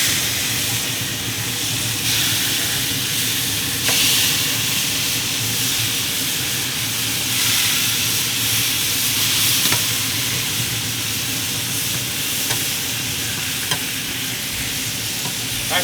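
Dry-aged beef burger patties sizzling on a grill, a loud, steady crackling hiss with small pops that continues unbroken throughout.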